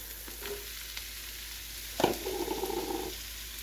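Shallots drop into onions and sausage cooking in butter in a cast iron skillet, setting off a sudden louder sizzle and crackle after a quieter stretch of stirring with a few light utensil taps.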